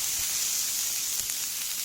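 Mushrooms sizzling in a hot pan, a bright steady hiss close up with no break and no talking.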